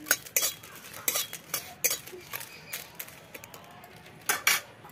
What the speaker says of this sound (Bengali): শুকনো লঙ্কাটা একটুখানি ভেজে নিই।